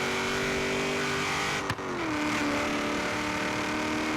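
BMW car engine in the Forza Horizon 3 racing game, a steady loud revving drone with layered harmonics, briefly dipping and shifting pitch midway as if changing gear, then carrying on at full volume.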